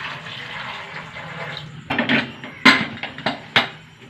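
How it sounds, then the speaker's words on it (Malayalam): Water is poured into a pressure cooker holding spiced green peas with coriander powder, turmeric and garam masala. A soft steady pour is followed by a few sharp splashes and metallic clinks near the end. "വെള്ളം ഒഴിച്ച് കൊടുക്കുക."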